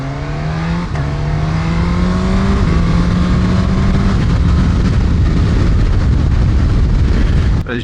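A 2024 Suzuki GSX-S1000GX motorcycle engine pulls hard and smoothly at speed, its pitch climbing steadily through a gear change. Loud, close and continuous, the engine note sits under heavy wind rush.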